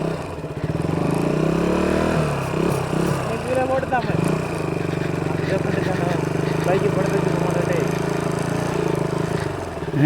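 A motorcycle engine drones steadily close by for the whole stretch on a bridge in Batticaloa, its pitch shifting as it revs, with voices talking over it.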